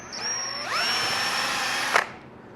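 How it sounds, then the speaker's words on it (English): A cordless power drill driving a 2-inch general purpose screw into a loose wooden table leg, a close steady whine rising in pitch as the motor spins up, ending with a sharp stop. "we'll try and shore it up a bit with just a couple of 2-inch general purpose screws"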